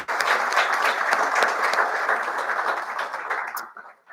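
An audience applauds after a conference presentation, a steady, dense wash of many hands clapping for about three and a half seconds before it fades out.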